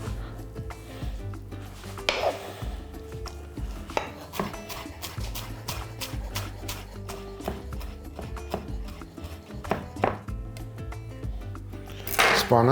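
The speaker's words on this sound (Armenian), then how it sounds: "Անմիջապես կարելի է նաև համեմը կտրատել։" Fresh cilantro is chopped with a knife for a bulgur and vegetable stuffed eggplant dish, with close, irregular blade taps and a little clatter against the board.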